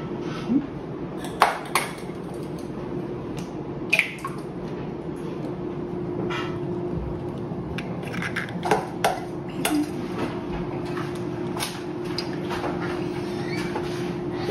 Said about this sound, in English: crack the eggs. 2 eggs.